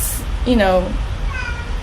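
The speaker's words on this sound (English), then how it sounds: "Oh, sorry, my cat." A pet cat meows close by, one clear rising-and-falling meow followed by a shorter, fainter one, heard over a quiet indoor background.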